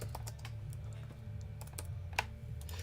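Typing on a computer keyboard, a steady run of soft, quick key clicks close by under a low background hum, with one sharper tap near the end.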